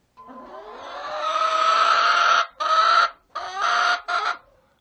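Chickens in an urban backyard coop cluck and squawk up close, one long rising call followed by several shorter bursts, loud and clear with no talk.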